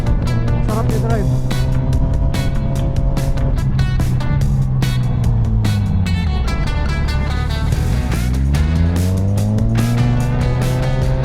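A motorcycle engine runs steadily on a road test drive after an oil change, its pitch rising and falling as it accelerates and eases off, loud and close, with wind rush and someone speaking over it.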